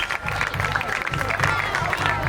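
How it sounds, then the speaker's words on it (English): An outdoor Independence Day crowd in Clarksville applauds the finishers of a watermelon eating contest, with steady clapping and cheering mixed with crowd chatter across the whole stretch. "Give them a big round of applause."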